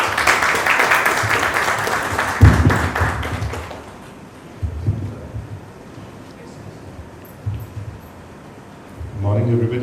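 A business plan competition audience gives a round of applause to welcome a speaker onstage, dense clapping for about four seconds that then fades to a quiet room with scattered murmurs and talk.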